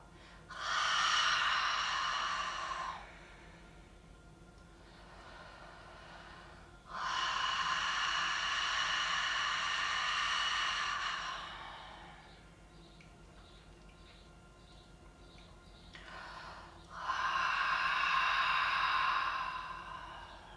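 Forceful breaths out while blowing out a mantra in a yoga session for the third chakra, heard as three long breathy exhalations, each several seconds long, with quieter pauses between them and no talk.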